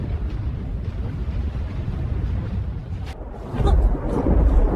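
Thunder sound effect: a low, grumbling rumble that rolls along quietly, then swells into a heavier, louder boom during the final second and a half.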